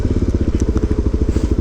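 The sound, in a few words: Suzuki DRZ motorcycle riding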